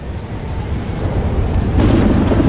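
Thunderstorm in the video game Life is Strange: Double Exposure: a heavy rolling rumble of thunder under steady rain, swelling louder toward the end.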